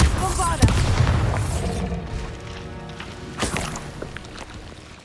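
A Bombarda explosion spell goes off in the Hogwarts Legacy video game, a loud booming blast at the start that rumbles and decays, with a voice calling out over it and a second softer impact midway.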